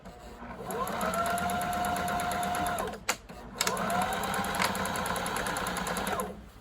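A sewing machine stitches a fitted fabric mask in two steady runs of several seconds each, separated by a brief pause with a clunk, the motor whirring close and fairly loud.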